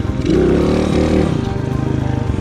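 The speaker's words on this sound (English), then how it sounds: "I brought the bike up and I tapped the rear brake and brought the bike down very quickly." A motorcycle lifts into a wheelie and the rider taps the rear brake to bring it down: the engine revs up in a loud close surge, then drops back to a lower pulsing idle-like throb.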